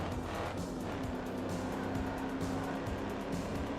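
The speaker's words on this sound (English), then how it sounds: "AJ series of engines wasn't exactly like known for their sound per se, especially on the T-Bird. So like in game, this sounds pretty decent." A Ford Thunderbird with an AJ-series engine races in the Ford Racing 2 video game, its engine droning continuously with tire squeal and passing car noise, fairly quiet and steady throughout.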